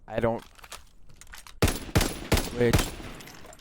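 MG15 light machine gun firing in Call of Duty, four loud close bursts of gunfire after a brief voice at the start.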